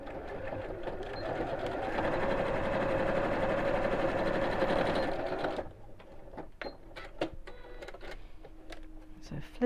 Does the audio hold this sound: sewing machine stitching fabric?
yes